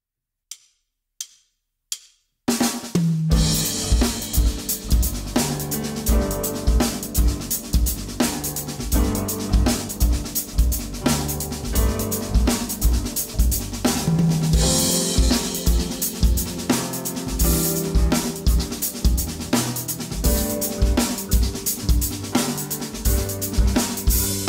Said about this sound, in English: Here's an example of a Paradiddle-diddle played with a backing track.